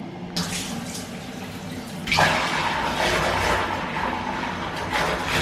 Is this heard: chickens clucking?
no